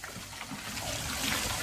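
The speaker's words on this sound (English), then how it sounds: "As you see the water's coming out" Water trickles steadily out of an air-conditioning condenser during cleaning with Nu-Calgon Tri-Clean coil cleaner, a quiet, brief continuous flow.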